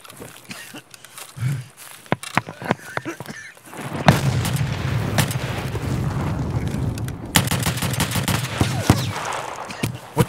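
Gunfire in the online shooter game Escape from Tarkov: scattered sharp shots early, then a sustained loud burst of dense firing and booms, with a second intense volley later, no speech.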